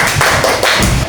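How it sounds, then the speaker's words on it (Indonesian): Classroom applause for a student presentation group: a short burst of quick, close hand claps, dense and fairly loud, lasting about a second. "Tepuk tangan buat kelompok 2."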